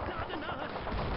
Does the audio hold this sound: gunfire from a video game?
yes